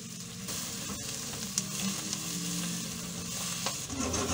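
Sliced mushrooms hit a hot pan alongside wilted spinach, frying with a steady, close sizzle and occasional stirring clatter throughout, no voices over it.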